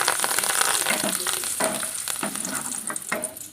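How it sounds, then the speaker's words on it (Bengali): Curry leaves fry in hot oil, giving a loud, continuous crackling sizzle close by, with a few sharper pops and stirring scrapes and no talk. "কারি পাতাটা একটু হালকা তেলে ভেজে নিব"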